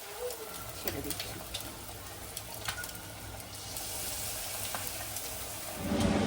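Evening snacks dropped into hot oil, a faint steady sizzle with soft bubbling and small clinks, a quiet kitchen scene where a voice speaks over the frying.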